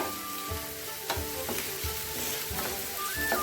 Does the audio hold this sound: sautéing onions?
yes